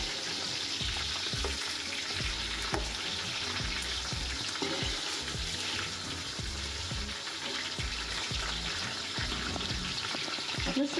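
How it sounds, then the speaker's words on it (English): Spices being stirred into onions and tomatoes frying for mutton biryani: a steady sizzle with repeated scraping stirs of a spoon against the pan, and a trickle of running water in the background. "I'm going to drop in my spices now for my biryani. I'm just going to stir this in."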